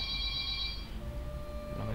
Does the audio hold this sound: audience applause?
no